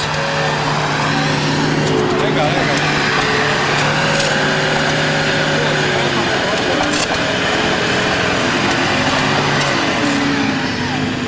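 A bus labors through mud at a road repair on the Tibetan plateau, with a steady droning engine and strained revving throughout, loud and continuous, while people talk over it.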